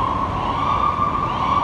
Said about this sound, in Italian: passa ovviamente chi deve passare, il camion dei pompieri, vedi?